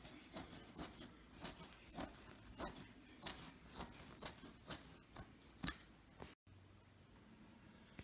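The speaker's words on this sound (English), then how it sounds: "grab this ragged seam and just cut the fabric right beneath it" A Milliard tri-fold overlanding truck mattress's outer cover fabric being cut close up with a fillet knife, a string of crisp, rhythmic slicing and snipping strokes with no talking.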